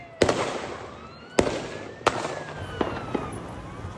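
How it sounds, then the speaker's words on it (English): Gunshots fired during an attack at a menorah lighting on Bondi Beach in Sydney, Australia: five sharp, distant cracks at uneven intervals, three loud and two fainter, with a siren wailing underneath. "lives as shot after shot rings out"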